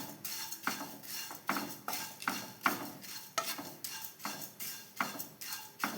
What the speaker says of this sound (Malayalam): നല്ലോണം വറുത്താവണം അവിൽ